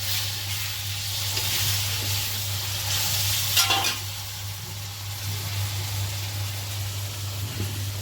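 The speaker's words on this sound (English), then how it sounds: "Now I am sauteing it." Tomato sautéing in a pan for pasta: a steady, close sizzle with brief scraping stir strokes and a low constant hum beneath.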